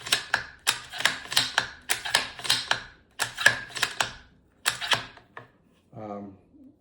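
A rifle bolt is cycled and dry fired repeatedly, giving a close, crisp run of regular metallic clacks and clicks, followed by a softer mechanical rattle at the end.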